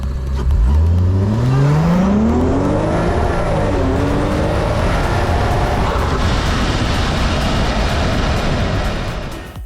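A supercharged Lexus IS 350 F Sport revs hard, its loud, raspy exhaust rising in pitch as it accelerates, then settling into a harsh, sustained roar close by.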